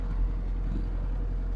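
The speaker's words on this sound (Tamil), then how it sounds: "வண்டி சவுண்டு கேட்டிங்களா என்னன்னு தெரியல." A Tata Sumo Grande engine idles steadily close by, a low continuous rumble with no talk over it.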